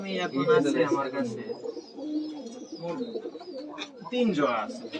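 Pigeons in a home loft of Rajshahi colour birds coo in low, rolling murmurs throughout, close and steady, while people talk over them.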